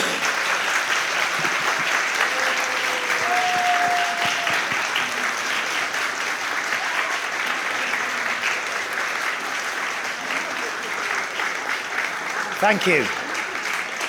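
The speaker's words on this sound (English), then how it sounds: "give them a round of applause" An audience at a new members' ceremony applauds steadily and warmly for the new members and fellows, a dense, sustained clapping that fills the room, with a brief spoken thanks near the end.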